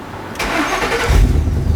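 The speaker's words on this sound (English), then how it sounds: "I got to start the car for this" Car engine cranking and catching during an air-conditioning compressor check, a brief loud start that settles into a low rumble.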